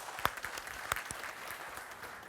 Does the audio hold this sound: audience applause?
yes